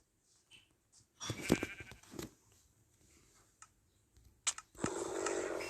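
Several short bleats from sheep in Minecraft, separated by pauses, mixed with clicks and a burst of hissy noise near the end.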